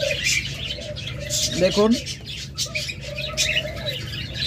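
Diamond doves in a cage give soft, low cooing calls in a few drawn-out phrases, joined by brief chirps around the middle, while someone speaks over them.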